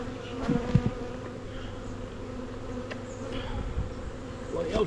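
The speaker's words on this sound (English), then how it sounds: "very happy, good solid core of bees" Honey bees humming around a hive being packed down for winter, a steady close buzz with individual bees flying past now and then and no speech.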